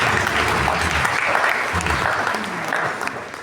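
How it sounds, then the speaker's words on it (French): A church congregation applauds the choir singers during a New Year's Eve Mass, a loud, dense wash of clapping that fills the room steadily, with a few voices murmuring underneath. "pour ça il faut les applaudir"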